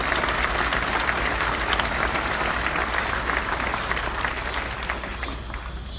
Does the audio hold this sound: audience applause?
yes